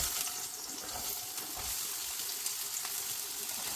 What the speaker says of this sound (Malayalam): അപ്പോൾ നമ്മളത് ചീഞ്ചട്ടി വെച്ച് കുറച്ച് എണ്ണ ഒഴിച്ച് കൊടുത്തിട്ടുണ്ട്. ഇനി ഇതിലേക്ക് നമുക്ക് നമ്മുടെ ചെറിയ ഉള്ളി ഇട്ട് കൊടുക്കാം.